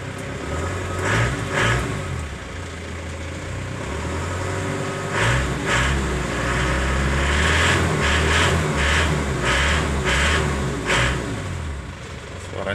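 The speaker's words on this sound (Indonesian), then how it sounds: "Kalau mesin Panther 25 ini garing suaranya ya." A 2001 Isuzu Panther LS with a 2.5-litre diesel engine revs close by, a harsh, clattery drone that swells in several bursts and never drops to quiet; no one speaks.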